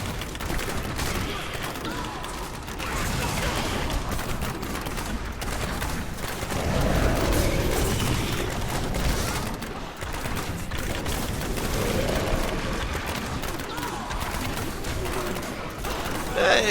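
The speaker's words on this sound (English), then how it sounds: "Filling the screen with explosions." Dense, continuous bursts of explosions and rapid-fire attacks from a Hardcore Demon Hunter in Diablo 3 Reaper of Souls multiplayer, a loud unbroken barrage filling the whole span with layered booms and crackles.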